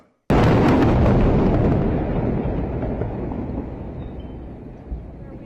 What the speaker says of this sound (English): Multiple explosions, multiple strikes that leveled at least 6 to 7 residential buildings.